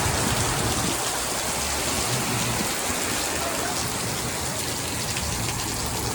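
Heavy rainstorm pouring down in Palm Desert, a dense, steady roar of rain hitting surfaces that stays loud and unbroken throughout, with no voices heard.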